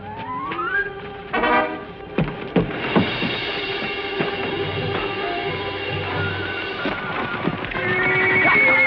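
Hooves clop in a quick burst and a horse neighs loudly, followed by sustained shrill whinnying over a rumbling, windy background.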